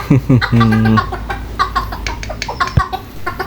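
A bantam chicken (ayam kate, kerikil type) clucks in short bursts up close, several quick calls early on, followed by scattered softer sounds.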